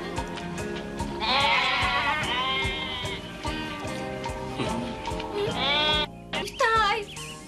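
Sheep bleat loudly and repeatedly up close, with wavering cries that overlap and follow one after another, over a busy background of other sound.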